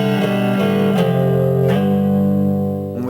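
Electric guitar in standard tuning plays a riff, sustained chords ringing loud and close with a few picked note changes and slides, no talking.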